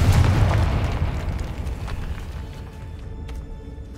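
A Confringo explosion spell bursts in the Hogwarts Legacy video game, a loud booming blast at the start that rumbles and decays over several seconds, with faint crackles after.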